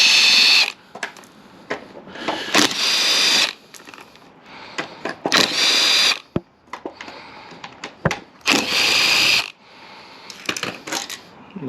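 Screws come out of the stock airbox MAP sensor on an R33 Skyline RB25 engine, heard as bursts of a small power driver whirring in short runs between clicks, taps and pauses.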